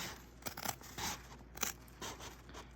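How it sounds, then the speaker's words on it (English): Scissors cut down the middle of fabric for a sewing project, several close crisp snipping and slicing strokes in an uneven rhythm, with no talking. "I can slide my scissors in there and I'm gonna cut right down the middle."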